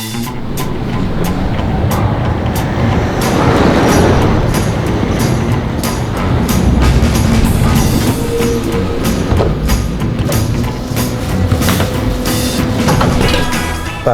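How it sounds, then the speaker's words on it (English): Riding the CAT airport express train, a loud steady interior rumble and rattle continues for the whole stretch, with faint clicks and small surges over the constant drone and no voices. "Now in the CAT train to the airport."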